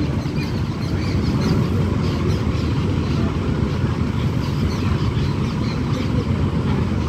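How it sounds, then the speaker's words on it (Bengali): A train rolls into a station near a rail crossing, a loud continuous low rumble and rattle that holds steady throughout with no voices. "তো এই যে ট্রেন ঢুকছে এবারে।"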